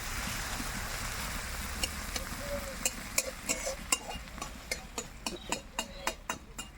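Cleaned shrimp fry in hot oil in a pan with a soft steady sizzle. A series of sharp spatula taps and scrapes grows more regular toward the end.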